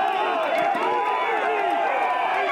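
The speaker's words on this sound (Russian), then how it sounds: "Полиции пришлось сдерживать толпу." A large crowd of protesters in Barcelona greets King Felipe VI, with steady, loud, massed voices and shouting that stay close throughout, together with scattered whoops and faint clapping.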